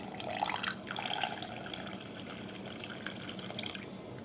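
Tap water pouring into a pot for cooking rice, alongside shrimp prepared restaurant-style, runs steadily and close by for a few seconds with no talking over it.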